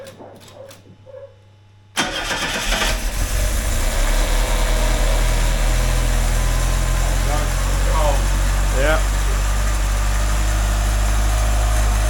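A Ford Cortina mk5 engine cranks and catches after a quiet moment, then settles into a loud, steady idle close by, with a brief spoken word and a few chirps over the running engine.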